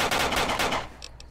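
Rapid automatic gunfire in Fallout: New Vegas, a loud burst of closely spaced shots that stops after under a second, followed by two faint metallic clicks.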